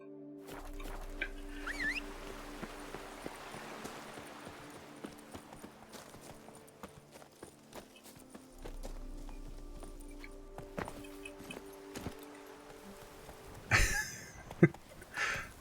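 Roach the horse in The Witcher 3 video game, hooves clip-clopping at a steady pace that comes and goes over the clip, moderately close, with occasional louder bursts near the end.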